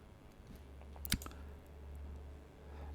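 A single sharp mouse click saving work in Unreal Engine 5.4 software, brief and close, over a low steady room hum.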